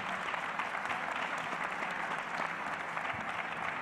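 An audience at an academic talk on public science and the social sciences applauds in a dense, steady wash of clapping that runs unbroken throughout, with no voices heard over it.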